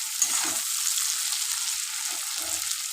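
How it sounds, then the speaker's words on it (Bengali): Onion fries in hot oil for a fish curry, a bright, steady sizzle and crackle close up, with a few soft stirring knocks in the pan. "পেঁয়াজটা কিন্তু একটু ভালো করে ভাজতে হবে"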